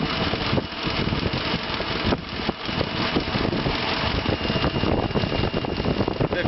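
A homemade honey extractor's half-horsepower motor runs at about 57 to 58 volts and 2 amps, giving a steady, fairly loud broadband drone with a rough, noisy texture and no talk.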